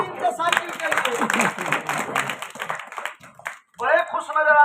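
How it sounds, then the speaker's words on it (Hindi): Children clapping and applauding for a bicycle at a school news skit, a burst of dense clapping with voices, fading briefly before talking resumes. "बजाओ ताली इनके साइकिल के लिए।"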